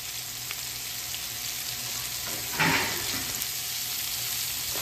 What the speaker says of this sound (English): We add the shallots too after 3 minutes.